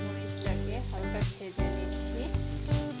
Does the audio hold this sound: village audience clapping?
no